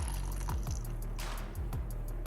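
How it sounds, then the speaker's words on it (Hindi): A small splash of water poured into ginger garlic paste in a home kitchen, faint trickling and dripping over a low background hum with a few soft knocks. "थोड़ा सा पानी डाल लेंगे।"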